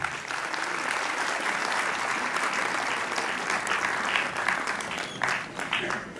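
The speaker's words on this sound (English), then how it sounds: "So let's all welcome her with loud claps," Audience at a kindergarten graduation ceremony breaks into sustained, dense applause lasting the whole stretch, steady and fairly loud with a few faint voices mixed in.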